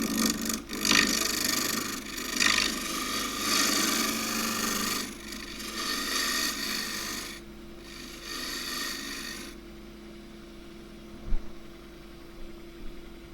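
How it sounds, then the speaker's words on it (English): A deep-fluted 3/8-inch bowl gouge scrapes and rasps against spinning wood on a lathe, steady close cutting passes that ease off partway through, leaving the softer hum of the turning lathe. "Now, wing of the tool, just going to smooth that off."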